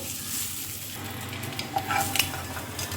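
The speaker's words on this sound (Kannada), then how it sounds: "ಹಾಗೆ ಈ ಸೌಟಿನ ಸ್ವಲ್ಪ ತಿರುಗಿಸಿ ಫ್ರೈ ಮಾಡ್ಕೊಳ್ಬೇಕು." Egg ghee roast frying in ghee and stirred with a ladle: a faint, soft sizzle with light scraping and a few small clinks, quiet and close.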